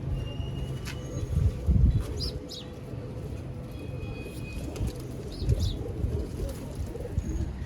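Champion Sialkoti pigeons coo in low, rolling bursts, with two louder clusters of cooing standing out over a steady murmur of birds and faint chirps.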